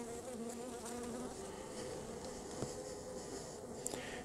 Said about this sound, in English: Bees are sort of going after my face.